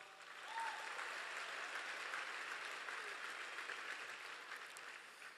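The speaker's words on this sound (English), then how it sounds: "give yourself a round of applause" Chapter members at a Turning Point USA tour event give a steady, dense round of applause from a large indoor crowd, sustained for several seconds and heard from a distance.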